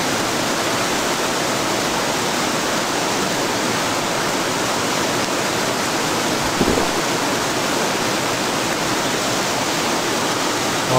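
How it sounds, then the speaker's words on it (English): Heavy rain pours down as a dense, constant roar of wide hiss with no let-up, loud and close, with no voices. "All that rain as well."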